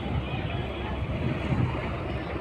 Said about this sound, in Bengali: এই যে লঞ্চটা দেখুন